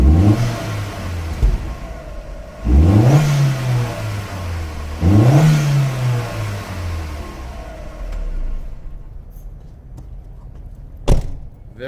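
A 1.8T Mk4 VW GTI engine with an aftermarket turbo intake revs hard three times in a row, each rise climbing sharply then easing back, with a whooshing intake rush, followed by a lower rumble and a single thump.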